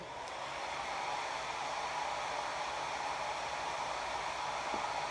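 A hair dryer blows in a steady, close, loud whoosh, drying a chalk paint design on a craft piece, running unbroken without talk.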